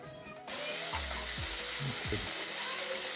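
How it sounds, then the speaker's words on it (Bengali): Small khalshe fish coated in salt and turmeric hit hot oil in a wok and burst into a loud, continuous sizzle, with a few low clunks and scrapes from the pan beneath the hiss. "এবার হালকা ফ্রাই করে নিতে হবে"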